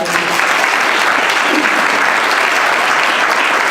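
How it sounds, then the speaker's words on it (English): Dense, steady applause from an audience fills a class of 1988 thirty-year high school reunion dinner, loud and close, sustained without a break. "Let's give him a round of applause."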